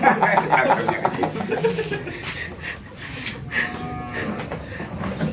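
Cattle low at a livestock farm, with a few drawn-out moos rising over a steady murmur of outdoor background and light laughter nearby.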